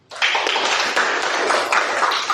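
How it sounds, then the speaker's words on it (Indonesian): An audience bursts into applause for a student named Mas Umam in a classroom teaching session, a dense, steady patter of clapping starting abruptly and continuing, close and loud. "Tepuk tangan untuk Mas Umam"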